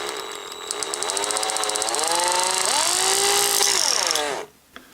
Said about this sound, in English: drill a hole as close to the centre as I can get through there, through the back